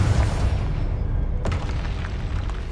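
Confringo explosion spell cast in the video game Hogwarts Legacy, a sustained loud booming blast with rumbling low end and a sharp crackle near the middle.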